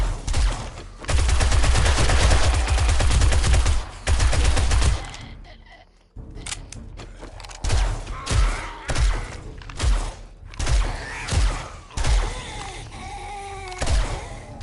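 Shotgun fire in 7 Days to Die on PS5 starts as a dense, loud stretch of rapid blasts, then, after a short lull, gives way to heavy, evenly spaced booming shots.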